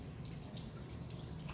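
Water runs and splashes steadily from a tap as a tenkara fishing rod's sections are flushed and washed, a soft continuous gush with faint dripping and no voices.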